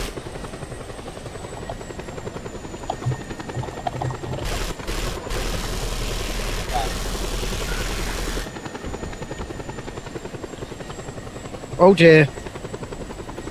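A helicopter's rotor and engine drone steadily in Just Cause 2 multiplayer, with a few sharp bursts of gunfire and a loud noisy surge partway through; people talk briefly over it.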